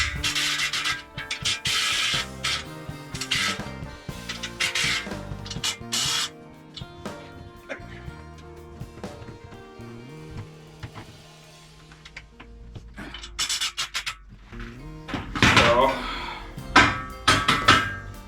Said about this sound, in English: Loosen up these bolts that I tightened up.